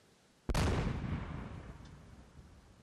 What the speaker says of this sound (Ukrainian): Усі снаряди зі ставка рятувальники відвезли подалі від села і тільки там їх підірвали.